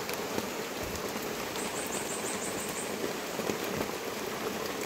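Steady rain falls during a rootcrop harvest of taro in the mountains, a constant broadband hiss with faint scattered drips, no voices present.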